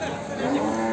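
A pregnant buffalo at the Erragadda Sunday cattle market gives a brief, low, drawn-out moo, close by, amid the murmur of people talking nearby.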